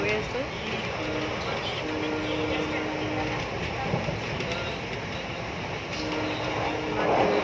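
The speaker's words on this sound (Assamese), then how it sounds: "ট্ৰেইন এৰিৰে আমি এতিয়া গৈ আছোঁ।" A moving passenger train rumbles and rattles steadily from inside the carriage, a loud continuous roar with faint tonal hums, as voices murmur in the background.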